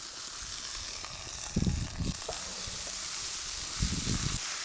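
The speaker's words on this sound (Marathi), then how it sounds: "छान अशी परतून घ्यायची मस्त आरावर आपली भाजी छान अशी परतली" Vegetables being sautéed in a spice masala in a pan on the stove give a soft, steady sizzle, with a few faint scraping stirs, low in level throughout.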